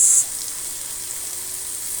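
Food fries in a pan with a steady, bright sizzle and crackle, close and continuous throughout, with a slightly louder spit at the very start.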